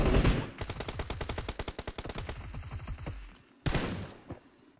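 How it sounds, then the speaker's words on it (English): Rapid bursts of automatic gunfire rattle in quick succession, fairly close, then a pause before another sharp loud shot and a fainter one. "There's gunshots on our right"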